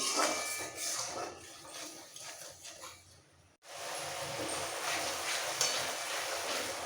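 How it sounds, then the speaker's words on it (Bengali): A Bengali-style masala for a curry of small chara pona fish, made with ground green chilies, sizzles and fries in hot oil while being stirred, a steady close hiss with a brief lull before it resumes. "এবার ভালো করে কষাবো যতক্ষণ পর্যন্ত জলটা টেনে তেলটা বেরিয়ে আসছে"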